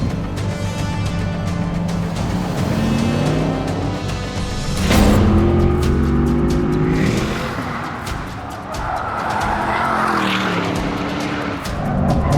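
A facelifted 630 hp Porsche Panamera Turbo on a Nurburgring Nordschleife lap roars loudly, its engine note climbing through the revs with sharp gear changes, while tire and wind noise swell as the car pushes through fast corners.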